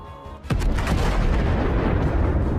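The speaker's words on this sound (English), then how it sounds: "A powerful explosion." A Russian Msta-S self-propelled howitzer blows up along with its ammunition: one sudden, heavy blast, then a dense, sustained roaring rumble that fills the rest of the moment.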